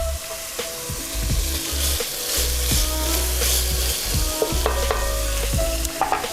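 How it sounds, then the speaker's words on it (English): Half a cup of beer poured into a hot pan of browned bits sizzles steadily and loudly, with scraping and stirring sounds throughout. "and we're gonna deglaze with half a cup of beer"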